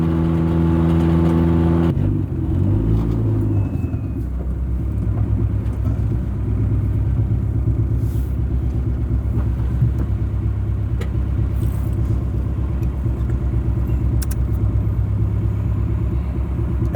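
A budget turbocharged Honda Civic with an F2B engine drives along, its steady low engine drone and road rumble filling the cabin; a brief higher whir or rev settles into a constant cruising hum.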